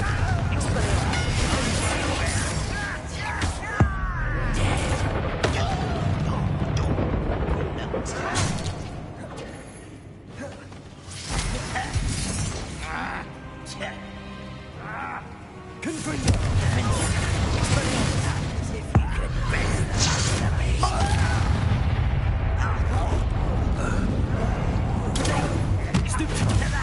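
Blasting-spell explosions from the Hogwarts Legacy video game, heavy booms and thuds bursting through dense game sound and music, with characters talking in between.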